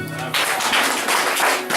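A church congregation applauding, a dense wash of clapping that starts abruptly after a brief moment of voice and carries on steadily, fairly loud and close.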